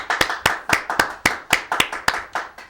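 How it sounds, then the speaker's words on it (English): A single pair of hands claps in a studio for a guest on a talk show, about a dozen sharp, evenly spaced claps, close and clear, with no other sound between them. "Let's give a round of applause."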